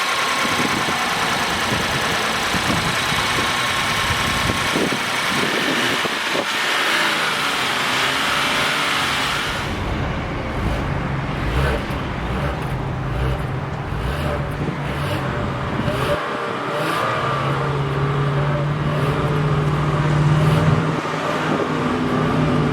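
2021 Genesis G80 with a 3.5-liter twin-turbo V6, heard idling steadily up close and then given several moderate revs that rise and fall over about twenty seconds.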